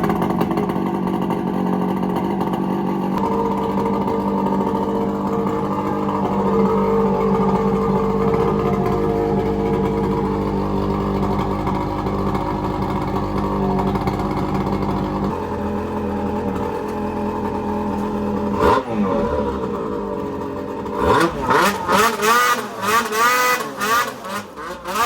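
A Lynx snowmobile engine hums steadily at first, then breaks into a series of sharp, rising revs toward the end, loud and close.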